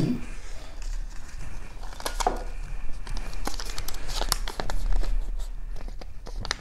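Paper rustles and crinkles as a slip is pulled and unfolded, with small scratchy taps and handling noises close by.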